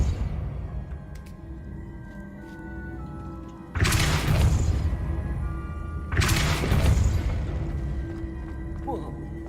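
Depulso force spell cast in Hogwarts Legacy, two loud booming blasts a few seconds apart, each with a crashing burst that fades over low game ambience.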